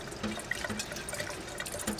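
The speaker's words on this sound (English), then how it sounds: "I just like to peel this under the running water." Tap water running steadily into a sink while a glass drink jar is rinsed under it and its etching stencil peeled off, with light splashing and trickling, close and fairly quiet.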